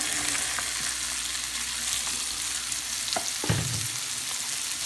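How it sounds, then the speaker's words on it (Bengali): Chopped papaya goes into a pan and fries in oil, producing a constant sizzle with a few scraping stirs and a clunk as pieces are added. "এখন আমি কেটে রাখা পেঁপে ভাজিগুলো এর মধ্যে অ্যাড করে দিব।"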